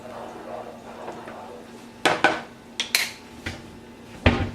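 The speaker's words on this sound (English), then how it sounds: "So we'll give that a quick stir." A few sharp metallic clinks and scrapes of a spoon against a pot of boiling water and quinoa, spaced irregularly over low background noise.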